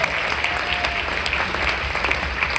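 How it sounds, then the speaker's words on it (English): Audience applause at a North Hills jazz band concert, a dense, steady wash of clapping from a crowd, continuous and fairly loud throughout. "Let's have a round of applause for Nakai back there."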